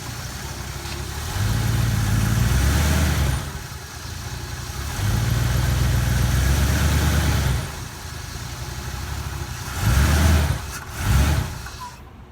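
A 1956 De Soto FireDome Hemi V8 with a dual-points distributor runs in bursts: two long steady revs with a pause between, then two short blips, a deep loud rumble close by in a workshop.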